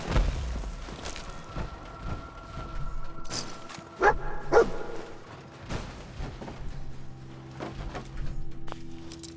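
A dog barks several times in the post-apocalyptic video game Fallout 4, short yips and woofs spread across a busy mix of game sound effects and background noise.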